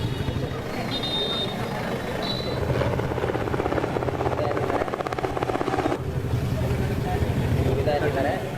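A helicopter flying over for security surveillance gives a steady rotor chop and engine drone throughout, under a man's continuous speech.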